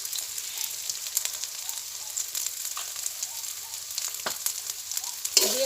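Steady crackling sizzle of salt, turmeric and chili frying in a pan while being stirred, with scattered close utensil scrapes and taps; no voices.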